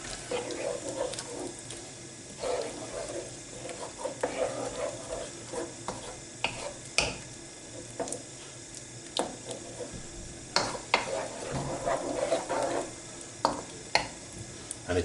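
Chicken tikka masala gravy enriched with cream is stirred in a pan as it bubbles, soft scraping and spoon movements over a steady low sizzle, close and fairly quiet, with no talking.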